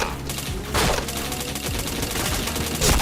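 Rapid bursts of gunfire rattle through a video game shooter during a headshot exchange, dense and continuous at moderate volume.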